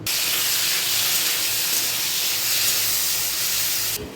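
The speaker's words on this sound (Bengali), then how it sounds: "তেল গরম হয়ে গেছে এবার চিংড়ি মাছগুলো দিয়ে দেবো" Prawns sizzle loudly in hot mustard oil in a kadai, a steady, dense hiss of frying that holds evenly for several seconds and then cuts off abruptly.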